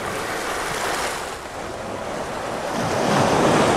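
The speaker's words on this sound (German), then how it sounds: "Das ist jetzt der Sandstrand, an der Wasserlinie sind Steine." Waves wash onto a sandy beach lined with stones at the waterline on the Costa del Sol, a continuous loud surf roar with wind buffeting the microphone, swelling stronger toward the end.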